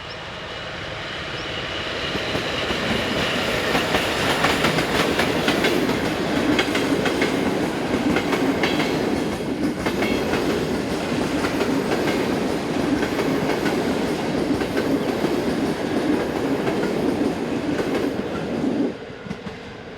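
A passenger train hauled by a 1975 Polish EP08 electric locomotive rolls through a railway junction, making a loud, steady rumble with rhythmic wheel clatter for nearly twenty seconds before easing off at the end.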